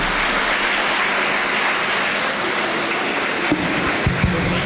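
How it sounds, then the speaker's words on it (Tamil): An audience at a homoeopathy medical college event applauds to welcome the chief guest, with loud, dense, steady clapping that fills the hall and stays even throughout. "அவருக்காக ஒரு கரகோஷம், ஒரு கைதட்டி சொல்லி அவரை வரவேற்கிறார்"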